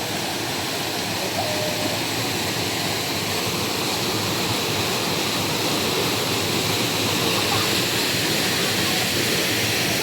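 Bukal Falls in Majayjay, Laguna pours down as a steady, broad roar of falling water, loud and unbroken from start to end, with no other sounds rising above it.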